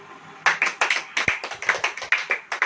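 A church congregation claps hands in a loose, uneven rhythm, with about a dozen sharp close claps spread over a few seconds.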